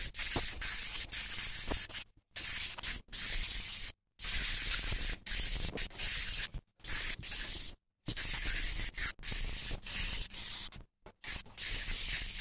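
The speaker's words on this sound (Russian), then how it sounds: "Значит, также ее на 16 кусков разрезаем и начинаем полировать" Audi A4 B8 fog light glass being sanded by hand with 320-grit sandpaper, a loud hissing rasp in repeated strokes separated by short silent breaks.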